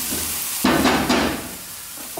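Chopped onions sizzle in a hot pan while being stirred: a steady frying hiss with two short scraping bursts from the utensil, close and fairly loud.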